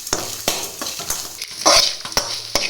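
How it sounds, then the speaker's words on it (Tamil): Ingredients and grated coconut being stirred in a pan, a spoon scraping and knocking against the metal in irregular strokes over a soft sizzle, close and fairly loud, with no voices. "நம்ம சேர்த்த பொருள்லாம் வதங்கிட்டு கொஞ்சம் தேங்காயும் அதை சேர்த்து வதக்கிடுவோம்."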